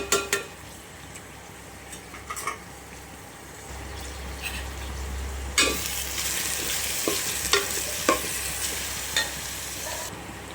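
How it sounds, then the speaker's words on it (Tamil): Tomatoes and mint sautéing in oil in a pan for chicken biryani, a steady close sizzle broken by scattered scraping stirs and a louder burst of frying midway, with no talking. "தக்காளி வதங்கி எண்ணெய் பிரிஞ்சு வர ஸ்டேஜில் நம்ம வந்து கட் பண்ணி வச்சுருக்க புதினா கொஞ்சம் ஆட் பண்ணிக்கிறோம்."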